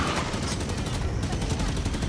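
Rapid automatic gunfire crackles in dense bursts during a firefight in the video game Halo 5: Guardians, loud and continuous for a couple of seconds with no talk.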